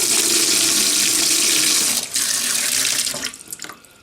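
Water gushes steadily from a newly fitted kitchen mixer tap into the sink, loud and continuous, then splutters and breaks up toward the end as the flow falters and air spits through the spout.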